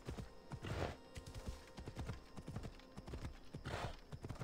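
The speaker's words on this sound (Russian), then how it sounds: "И сейчас посмотрим на нашу новую лошадь." Horse hooves clip-clop in the video game Assassin's Creed Odyssey, a steady, rhythmic run of close hoofbeats continuing for several seconds over a busy in-game background.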